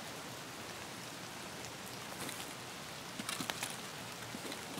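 Steady rain falls across an outdoor street in the shooter game Escape from Tarkov, a dense continuous hiss with a few brighter spattering bursts toward the end, no voices over it.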